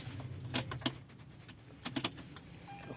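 Keys jangle in the ignition of a 2002 Lexus parked with the engine off, giving a few short metallic clinks and rattles, close and fairly quiet, with no one speaking.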